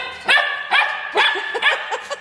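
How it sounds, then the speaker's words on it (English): Three-month-old Australian blue heeler cattle dog puppies bark in a quick series of sharp, high yips and barks, loud and close, with short gaps between bursts. "Cattle dog, Australian blue heeler."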